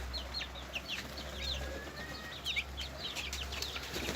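Birds from a Turkish pigeon keeper's flock make repeated short chirps and calls at moderate distance over a steady low hum, with no one speaking.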